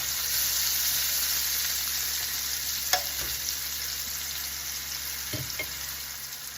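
Sliced sweet onion fries in a pan over heat just below medium, giving a steady close sizzle that holds throughout, with a couple of faint clicks partway through.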